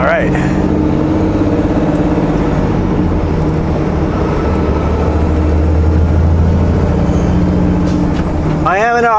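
2018 Kenworth automatic truck driving, a loud continuous engine rumble and road noise from inside the cab, steady throughout with a brief rise in tone near the end.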